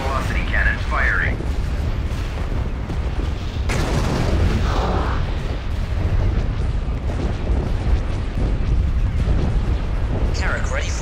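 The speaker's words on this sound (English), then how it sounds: "Hypervelocity cannon firing." A hypervelocity cannon fires in a Star Wars strategy game, producing sustained heavy booming and rumbling blasts over a dense battle din, with brief voice lines at the start and end.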